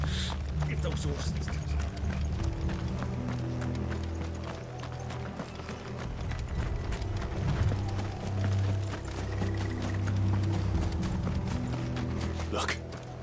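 Hooves pounding in a rapid clip-clop rhythm, horses galloping close by with a low rumble underneath, in the video game Final Fantasy XVI.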